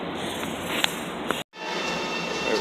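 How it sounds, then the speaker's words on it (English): A Long Island Rail Road Main Line train pulls into a station, a steady rumble of rail noise with two sharp clicks and a brief cutout before the noise resumes, no voices. "we have a train coming in now"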